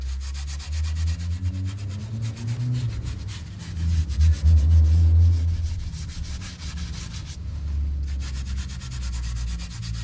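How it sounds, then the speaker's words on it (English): A red Scotch-Brite pad scuffs a GMC Yukon Denali brake caliper, making a close, continuous abrasive rubbing that swells louder in the middle and keeps going in uneven strokes, with no talk. "a red Scotch-Brite, we're just gonna go over it with it"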